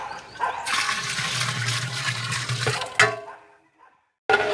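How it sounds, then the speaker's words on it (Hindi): About 12 to 15 litres of water gush into a large cooking pot for degi chana pulao, a loud continuous splashing pour lasting a few seconds before trailing off, then a sharp knock. "तो आपने इसमें पानी डालना है 12 से 15 लीटर।"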